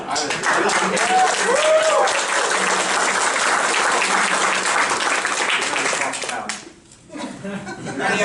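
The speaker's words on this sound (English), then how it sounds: "I want Kevin to walk back into the thunderous applause he deserves." Audience at a film press conference breaks into loud, sustained applause and clapping with some laughter, fading out near the end.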